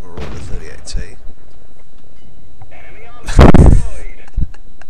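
Tank cannons boom in World of Tanks, with a sharp blast near the start and a louder, heavier shot with a rumbling tail past the midpoint, and a voice talks between them.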